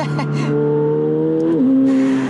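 A 900hp McLaren 720S accelerates hard and loud, engine note climbing then dropping at a gear change, with turbo whoosh and sharp blow-off hisses between pulls.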